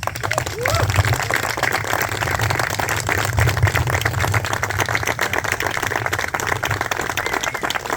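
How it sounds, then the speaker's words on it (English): A memorial dedication ceremony audience gives Brother Nick Palazzo a round of applause. Dense, continuous clapping sounds from many hands, with a loud, noisy rattle that holds steady throughout, over a low rumbling background. "A round of applause for Brother Nick Palazzo"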